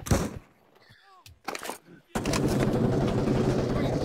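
Gunfire in the Pavlov VR shooter game: a few sharp shots and thuds early on, then a sustained burst of heavy firing or loud noise that runs to the end.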